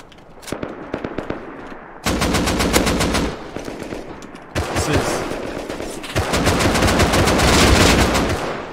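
Bursts of light machine gun fire in the Rust survival game, sustained rapid automatic volleys coming in several long loud stretches separated by brief pauses and scattered single shots.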